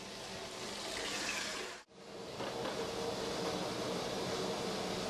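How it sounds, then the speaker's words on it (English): Hot tap water pours steadily into a cooking pot for a meat pie filling, a continuous broadband rush that briefly cuts out near the two-second mark before resuming just as strongly. "Straight from the tap."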